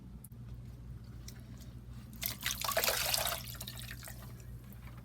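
A yarn skein is dropped into a dye pot of water, making a short splash and gurgle at close range that sits over a low steady hum, then settles back to quiet.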